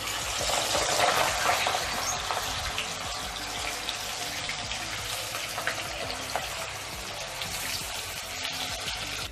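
Chickpeas deep frying in a wide pan of hot oil, a dense, steady bubbling sizzle that fills the whole stretch at an even, close level with no voices.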